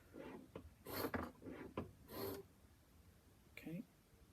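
A chisel being sharpened on a sharpening stone makes several faint, rhythmic rasping strokes, each a short scraping rub, with a pause before one last quieter stroke.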